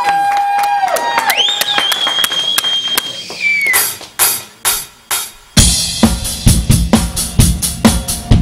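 Studio audience claps and cheers for a band on a live talk show, the first seconds mixed with a musical sting and electronic swoops before dense, loud applause takes over.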